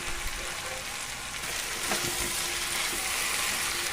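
Malai chicken sizzles and fries in a pan, a constant close crackle with occasional scraping sounds as it gets stirred, heard alone without talk.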